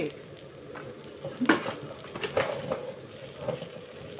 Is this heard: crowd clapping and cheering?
no